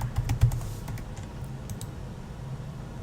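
Computer keyboard keys tapped while entering a username and password to log into a ParrotOS machine over remote desktop from Windows 11; a quick cluster of close clicks at the start, then sparser, fainter keystrokes, with no talking.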